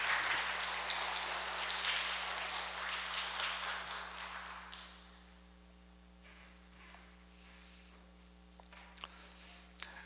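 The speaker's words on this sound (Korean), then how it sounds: "우리 선교사님 나오실 때 뜨거운 박수로 한번 환영해 주시면 감사하겠습니다" A church congregation applauds to welcome a missionary to the front. Broad clapping fills the first half, then fades to a quiet room with a steady low hum and a few scattered taps.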